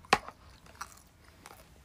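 Close chewing and biting of food, including fried chocolate chicken, during a livestream: one sharp crunchy bite followed by softer intermittent chewing clicks in a quiet room.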